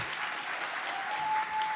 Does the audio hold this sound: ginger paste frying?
no